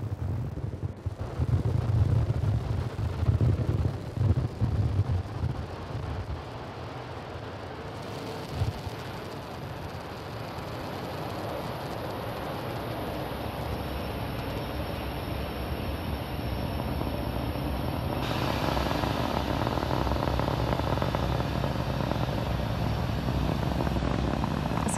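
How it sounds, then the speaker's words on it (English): A SpaceX Falcon 9 rocket lifts off from pad 39A at Kennedy Space Center on a Starlink mission. A distant, broad roar builds and then holds as a steady rumble, with a few sharper bursts near the start. "Successful liftoff for Falcon 9 from pad 39A."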